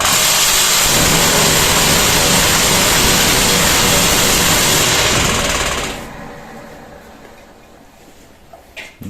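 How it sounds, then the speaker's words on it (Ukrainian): The two vibrators of a concrete block making machine, set for five blocks with six cavities, roar loudly and steadily together, then wind down into a quieter mechanical hum with a few faint knocks. "Два вібратора товчуть просто чудово."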